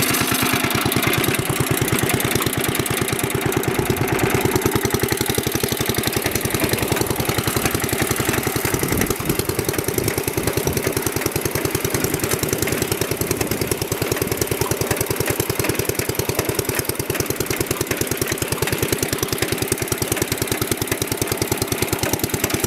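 A 1948 Ariens tiller's small engine runs at low throttle with a rapid, steady chugging putter, loud and close, continuous for the whole stretch with no talk.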